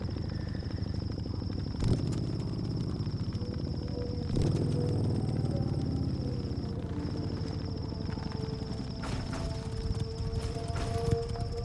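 An Indian Dark Horse motorcycle in the racing game The Crew 2 slows and pulls into a fuel station, its engine giving a low, steady rumble with a couple of brief revs and clunks, fairly quiet.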